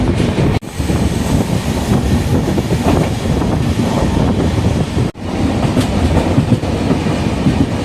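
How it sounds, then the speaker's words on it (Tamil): Heard from on board, the Rapti Sagar superfast express rolls steadily through a station without stopping. A continuous loud rumble carries rhythmic clickety-clack from the wheels, broken by two sharp momentary dropouts. "மக்களே வாளையாறு ஸ்டேஷன் ஸ்கிப் பண்ணி போயிட்டுருக்கோம்."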